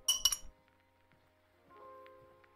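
A cocktail garnish drops into a glass with a bright, close clink and short rattle at the start, followed by faint ringing and quiet background.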